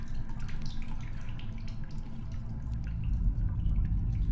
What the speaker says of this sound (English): here's a water source, so... may as well fill up,